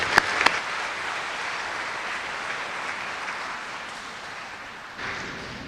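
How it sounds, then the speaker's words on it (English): Steady applause from a crowd fills the room at a December 2024 funeral service institute graduation ceremony, a sustained even clapping that fades slightly before a brief swell near the end. "give us one more round of applause for all these amazing people."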